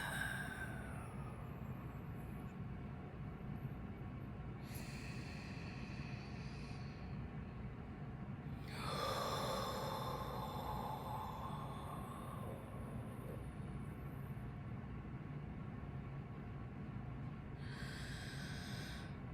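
Deep, slow breaths during a guided rib cage breathing exercise, with a few broad, airy exhales rising over a steady low hum, the longest lasting several seconds.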